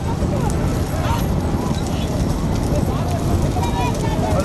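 Bulls pulling carts thunder along in a rekla bull cart race, their hooves a rapid, continuous clatter under loud commentary.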